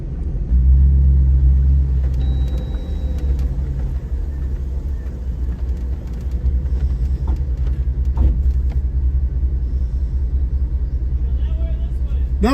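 Off-road truck on one-ton axles and 40-inch Mickey Thompson Baja Boss tires drives at Hidden Falls, a low steady engine rumble close by with a louder surge early, while people talk over it.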